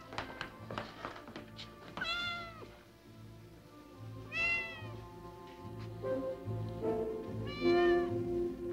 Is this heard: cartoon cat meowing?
yes